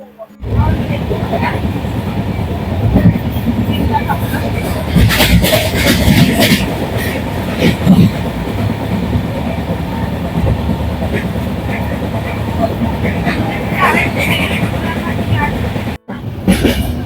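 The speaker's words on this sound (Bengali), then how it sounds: "আজকেও আমরা ট্রেনে এখনো চলছে, ট্রেন ঠিকঠাক টাইমে আছে।" Inside a moving passenger train on a long-distance journey, a loud, steady low rumble and rattle of the carriage continues throughout, with faint muffled voices in the background and a brief drop near the end.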